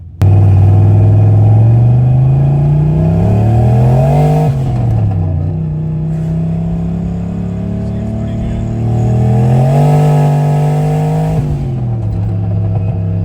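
A modified car drives toward the dyno while its engine revs up and eases back in two long swells, loud and close from inside, with a steady rumbling drone between pulls.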